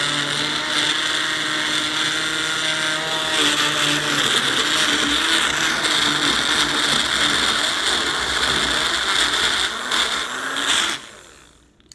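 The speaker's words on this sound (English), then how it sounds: "If it makes that noise, turn it off, because that is the motor of your blender overheating." A blender motor strains and overheats while making strawberry pineapple Dole Whip, a loud continuous grinding whir with a ratcheting edge that holds for about eleven seconds, then stops abruptly.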